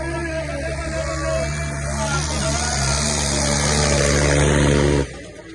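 A tractor engine at a tractor-trolley competition, running loud with a steady harmonic drone that swells slightly before cutting off abruptly near the end, with voices mixed in.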